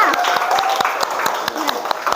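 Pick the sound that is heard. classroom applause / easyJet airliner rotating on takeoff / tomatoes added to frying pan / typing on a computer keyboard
classroom applause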